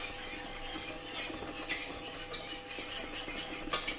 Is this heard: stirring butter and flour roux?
yes